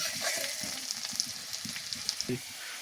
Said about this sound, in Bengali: আলুগুলো একটু ভালো করে ভেজে ভেজে নিব যাতে খেতে সুন্দর হয়